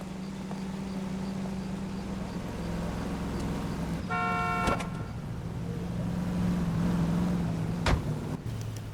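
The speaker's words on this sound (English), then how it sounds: "Don't lose that cab." A car engine hums while trailing a cab through city streets in L.A. Noire, with a sharp horn toot at about four seconds and a few brief knocks over the steady traffic.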